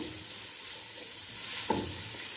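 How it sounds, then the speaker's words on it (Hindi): Vegetables for chicken hot and sour soup frying in a pan, a soft continuous sizzle with a single stirring scrape near the end, quiet and brief. "अब 1 मिनट इनको फ्राई करूँगी, ज़्यादा नहीं।"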